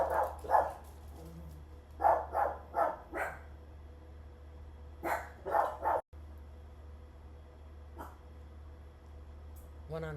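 Dogs barking indoors in repeated clusters of sharp yips and barks with short gaps, moderately near, over a steady low hum.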